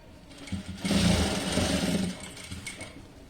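Sewing machine stitching a puff sleeve frock, running in a steady mechanical whir that swells in the middle and eases off, close and alone.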